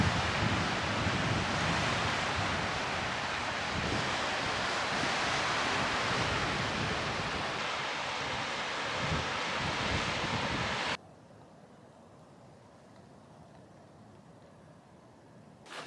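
Steady roar of ocean surf and wind at Tarpon Point on Cumberland Island, Georgia, broad and continuous for about eleven seconds before dropping abruptly to a much quieter hush.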